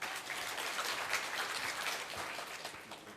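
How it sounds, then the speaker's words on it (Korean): An audience at a PyCon Korea 2019 lightning talk applauds, a dense, even patter of clapping hands that keeps going throughout and fades slightly at the end. "큰 박수 부탁드립니다."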